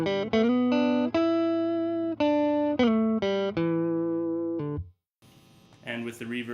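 Electric guitar played dry through a tweed amp, a clean, sustained run of single notes and chords, loud and up close, ending with a brief strum after a short pause.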